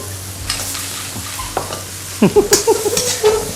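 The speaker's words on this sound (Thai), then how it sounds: "ใส่ไข่กับกุ้งที่เราผัดเอาไว้ลงไปครับ เขาให้เข้ากัน" Greens with shrimp and egg are stir-fried in a pan, sizzling loudly up close while a spatula scrapes and clanks, speeding into a quick run of tossing strokes toward the end.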